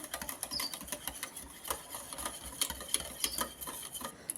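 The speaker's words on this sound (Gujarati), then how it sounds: "હવે આપણે છાશ એડ કરશું આમાં આ રીતે પતલું મિશ્રણ કરવાનું છે" Close, quiet stirring of buttermilk into a thin yogurt mixture for boondi raita, a rapid patter of small wet clicks and taps from the spoon against the bowl, steady throughout.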